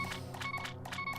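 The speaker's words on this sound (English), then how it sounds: "Sorry for the beeping, can't help it." Repeated electronic beeps over game music during a Legend of Zelda: A Link to the Past dungeon boss section, several short pulses in a steady rhythm, loud and close with no talking.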